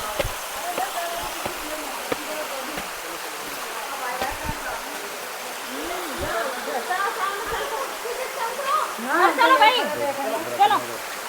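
A fast-flowing mountain stream rushes through a deserted forest between two hills, a steady broad roar with splashing that grows a little louder near the end, while a voice talks faintly over it.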